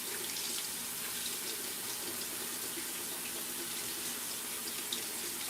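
Canned beans being rinsed under a running kitchen tap, a steady, close rush of water into the sink that continues unbroken for the whole stretch with no talking.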